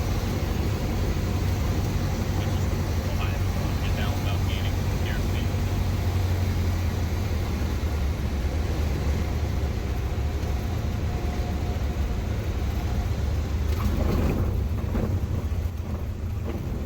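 Steady, loud engine drone and wind roar inside the cockpit of a Cessna 152 small plane as it comes in to land, holding a constant level throughout.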